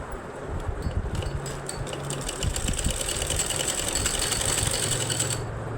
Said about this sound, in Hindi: और अब यहाँ पे मैं आसन की सिलाई लगा रही हूँ।